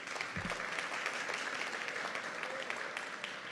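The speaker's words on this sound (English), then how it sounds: "So you can clap about that." Steady audience applause at an education week launch event, a dense wash of many clapping hands continuing evenly for several seconds at moderate loudness.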